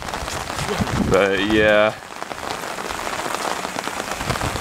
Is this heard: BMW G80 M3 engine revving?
no